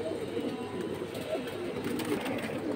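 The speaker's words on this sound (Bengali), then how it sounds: "4টাই মাদি কবুতর" Female pigeons coo softly in a loft, low throaty calls repeating over a steady background murmur, moderately distant and fairly quiet.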